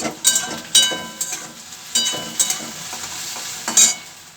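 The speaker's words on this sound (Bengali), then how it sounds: "এবার ভেন্ডিটা ভেজে" Okra frying in a pan, with a run of sharp spatula scrapes and stirs landing every half second or so over a faint steady sizzle, close and fairly loud, no talking.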